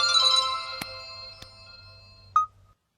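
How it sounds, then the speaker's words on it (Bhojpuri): A mobile phone ringtone plays a repeating electronic melody indoors, clear and alone, then cuts off with a final short tone before silence. "सर फोन।"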